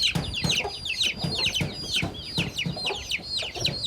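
Chickens cluck in a close, busy chorus, short repeated calls overlapping in an uneven rhythm, fairly loud with no talking.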